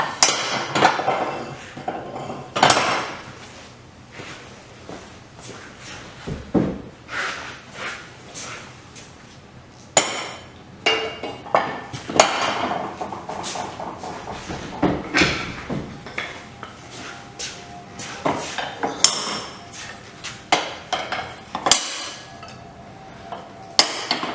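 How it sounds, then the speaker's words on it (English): Blacksmithing hammers are tossed one after another into the holder on an anvil stand, giving a series of sharp metallic clanks and knocks at close range. "Throw my hammers back in here."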